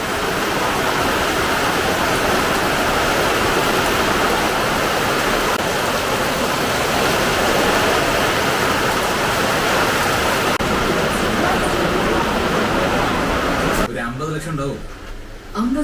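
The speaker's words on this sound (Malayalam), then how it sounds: "പെട്ടെന്നൊരു മഴ" Sudden heavy rain pours down steadily and loudly in a broad, constant wash that fills the scene, then drops away abruptly near the end as voices briefly come through.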